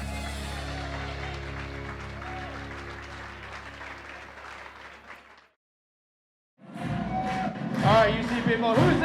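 Wedding reception guests break into applause, a broad, steady wash of clapping that runs for about five seconds, drops to a brief silence, then a louder, busier burst of clapping and crowd noise returns close by.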